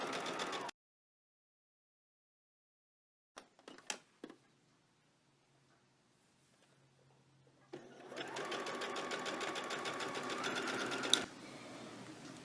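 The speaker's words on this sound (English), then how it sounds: "I'm just going to move the needle all the way to the widest stitch setting. Then I'm going to just run the stitch." A home sewing machine stitching on its widest stitch setting while sewing a summer dress, with a steady motor whir and needle rhythm in bursts, mostly in the last few seconds after a quiet stretch, close and alone.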